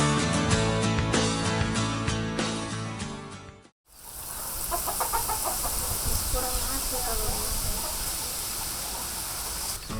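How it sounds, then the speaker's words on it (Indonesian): Flour-coated seasoned papaya fries in hot cooking oil, a dense crackling sizzle that starts abruptly after a brief pause and continues steadily, close and fairly loud; the earlier stretch before it carries music-like tonal sound. "Dengan menggunakan minyak goreng yang panas, hanya perlu waktu sebentar untuk menggoreng abon pepaya."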